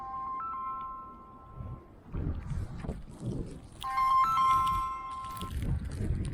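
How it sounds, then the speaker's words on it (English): A phone ringtone for an incoming call during a New York City snowstorm sounds in two melodic electronic bursts separated by a pause, moderately loud over rustling handling noise. "Phone call."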